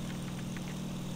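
An overheating aircraft engine in IL-2 Sturmovik holds a steady, droning hum throughout, a continuous mid-low rumble at moderate level with no other sounds.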